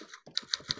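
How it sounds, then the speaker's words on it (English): Rapid clicking keystrokes on a computer keyboard, four or five crisp taps in quick succession, close and fairly quiet. "I'm fast at typing words."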